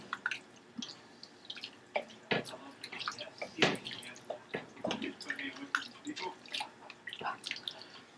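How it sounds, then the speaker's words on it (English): Beef broth is poured into a pot of smoked brisket chili and stirred, giving soft wet drips, splashes and squishy spoon sounds in an irregular rhythm, close and quiet. "I'm going to go ahead and put a little more beef broth down in there. Give a little stir."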